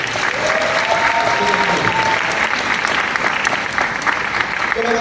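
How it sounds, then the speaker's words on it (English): A crowd at a middle school graduation ceremony gives a loud, sustained round of applause throughout, with a voice briefly audible over the clapping. "Give them the round of applause that they deserve"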